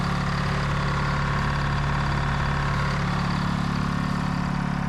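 A small Detroit Diesel engine idles close by in a Deere tracked machine, a loud, steady low rumble with an even mechanical chatter that never changes pace.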